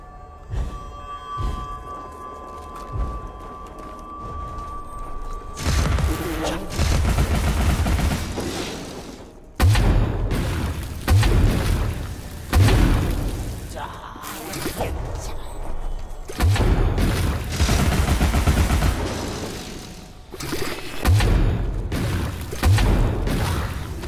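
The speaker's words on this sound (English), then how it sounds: "Can't escape the teapot cannon." Repeated heavy booming shots from a teapot cannon in the video game Alice Madness Returns, a string of loud blasts and thuds arriving in bursts after a quieter opening stretch.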